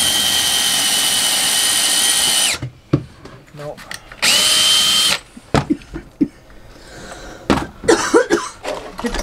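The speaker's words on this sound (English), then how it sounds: "I should drill a hole, shouldn't I?" A power drill whines loudly in two long high-pitched bursts, drilling a hole through thin material in an MCI bus conversion, winding down after each, followed by scraping, tapping and a cough nearby.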